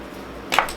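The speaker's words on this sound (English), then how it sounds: "I'm going to spray my face first with the Morphe setting spray." A short hissing burst of setting spray, close and fairly loud, lasting about a quarter second after a quiet stretch.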